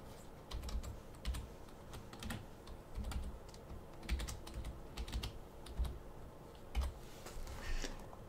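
A password being typed on a computer keyboard while logging into a school G Suite account, soft irregular key clicks heard close and quiet, with brief pauses between short bursts.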